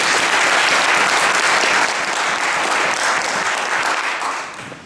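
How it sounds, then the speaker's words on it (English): Sustained audience applause for a leadership talk, steady and dense throughout before tapering slightly at the end, with no voices over it. "Round of applause."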